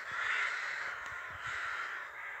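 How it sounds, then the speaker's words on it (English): Rooks caw repeatedly from trees behind a churchyard, a loose chorus of harsh calls overlapping at a moderate distance, with no talking. "Rooks in the trees at the back of the churchyard."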